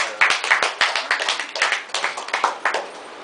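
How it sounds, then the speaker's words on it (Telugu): A small audience claps together at an event about a boy with kidney disease, a steady run of sharp hand claps lasting a few seconds, fairly close and loud, with no talking over it. "క్లాప్ కొట్టాలమ్మా మీరు"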